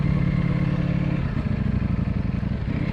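A 2022 Ducati V4S motorcycle engine runs close by at a steady, loud idle-like rumble with fine pulsing texture, heard on its own for the full few seconds.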